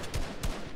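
Two quick bursts of gunfire in the Fortnite video game, the first near 0.15 s and the second near 0.45 s, each a sharp low thump with a broad crack, heard close and moderately loud over game background.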